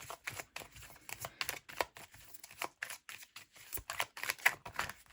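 A tarot deck is shuffled and handled up close, producing quick, irregular bursts of papery riffling and card slaps throughout, fairly soft and without talk.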